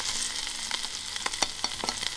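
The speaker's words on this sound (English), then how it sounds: "There's some tinapa flakes frying." Flakes of tinapa, a smoked fish, sizzle in hot oil with steady crackling hiss and a few sharp pops, close and fairly loud, no voices.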